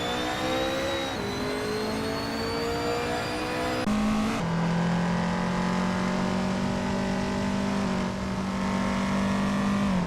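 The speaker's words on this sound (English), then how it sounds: "We've got some exciting AI car races happening right now" Racing cars in a video game AI race make a steady engine drone that lasts the whole time. Their whining tones shift as the cars change gear and rev up again.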